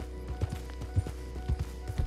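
Horse hooves clip-clopping in Red Dead Redemption 2, a steady rhythmic series of soft thuds at a trotting or galloping pace, fairly close and moderate in level, with a faint background hum.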